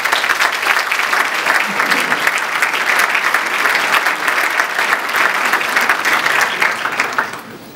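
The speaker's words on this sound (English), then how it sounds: "Loud applause." Loud, dense applause fills an audience hall at a Rotary Peace Forum, steady and sustained for several seconds before tapering off at the end.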